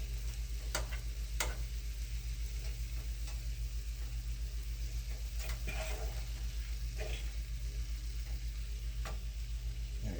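Peppers and onions sizzle steadily in a hot pan for hot Italian sausages, with a constant crackling hiss and occasional sharper ticks and scrapes from stirring, fairly quiet and without talk.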